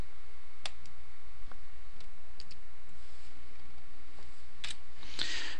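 Sparse computer mouse clicks while working in SPSS statistics software, a few sharp isolated taps over a steady low hum, with a brief rustle near the end.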